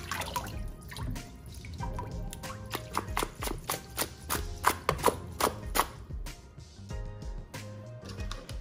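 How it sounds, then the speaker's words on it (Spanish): Water drips and splashes from chicken wings draining in a colander in a home kitchen, a busy run of quick close patters and taps, some louder droplets clustered near the middle, over a soft background hiss. "Escurrir muy bien las alitas"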